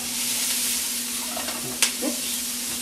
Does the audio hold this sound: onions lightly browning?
yes